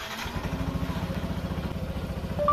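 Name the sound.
scooter engine starting and idling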